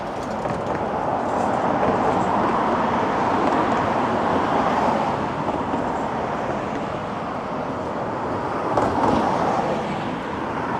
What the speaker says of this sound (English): Lots of traffic here, obviously.